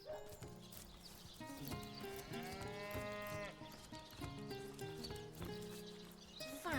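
Sheep in the Divinity Original Sin game bleating in a run of long, wavering, tonal cries over layered farm-animal ambience, fairly quiet and close, with no talking.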